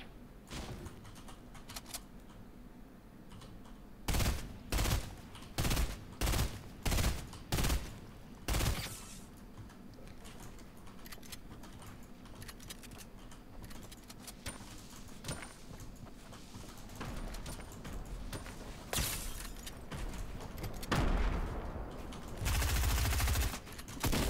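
Bursts of gunfire in the online battle royale game Fortnite, a rapid run of sharp evenly spaced shots followed later by scattered single shots and a final dense volley, all heard without talk.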